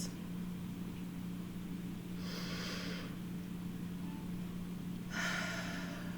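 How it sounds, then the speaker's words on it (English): Two slow, deep breaths during a guided relaxation, each a soft airy rush lasting under a second, set apart by a pause over a steady low electrical hum. "We're going to take a few deep breaths."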